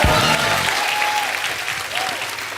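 A studio audience at a TV comedy show claps loudly and continuously for a short burst, dense applause filling the room.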